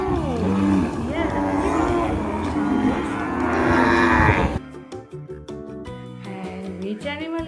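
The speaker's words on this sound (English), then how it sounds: "And cow goes moo." Cow mooing as a sound effect in a children's animal-sounds lesson: one long, loud lowing call lasting several seconds, then a short bouncy musical passage.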